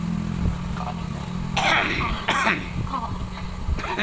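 A few harsh coughs and throat-clearing bursts over a steady low engine-like hum, close and fairly loud.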